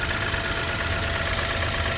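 A 2020 Toyota Yaris Cross engine idles with the hood open, giving an even, continuous hum with no change in pitch or level.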